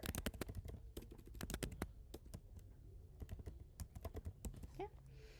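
Typing on a computer keyboard, rapid clusters of crisp close key clicks with short pauses between bursts, continuous and alone with no talking.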